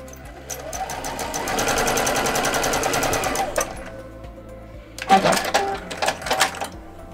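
A sewing machine stitches a straight quarter-inch seam through fabric for a crazy-quilt drawstring bag: a fast, steady mechanical chatter for about three seconds, then stops, followed by a few louder handling clacks and rustles.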